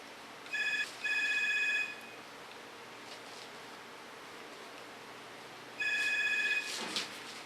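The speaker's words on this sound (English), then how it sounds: "There's somebody playing with our telephone." A telephone bell rings in two bursts, each a pair of bright trilling rings, separated by several seconds of quiet room hiss, close and fairly loud with no talking.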